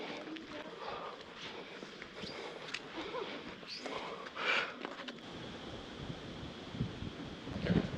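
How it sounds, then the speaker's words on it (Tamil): Wind gusts through a forest near Kataragama, buffeting the microphone with rushing noise while footsteps crunch along the trail and voices talk faintly. "நல்லா காற்றடிக்குதா, நல்லா இருக்குது"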